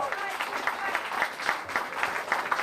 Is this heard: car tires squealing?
no